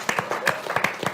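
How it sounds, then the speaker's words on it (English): Audience round of applause at an artist talk, a small group clapping in distinct, sparse claps heard fairly close for a brief moment. "Can you give a big round of applause?"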